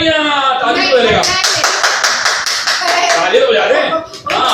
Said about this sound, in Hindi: वाह वाह तालियां ताली तो बजेगा